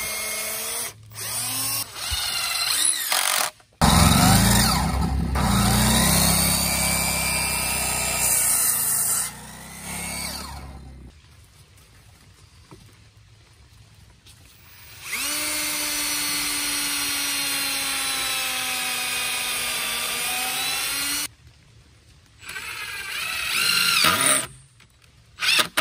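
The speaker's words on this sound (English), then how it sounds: "we're using a drill bit first because the screws were not getting in the wood" Power drill with a bit boring pilot holes into very hard wood for a cabin floor, whining in several long, steady bursts separated by short pauses, loud and close with no talking.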